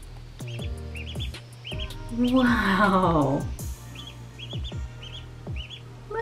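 A baby duck peeps repeatedly from a household sink, its chirps high and close alongside a louder burst of calls in the middle, while people talk over it.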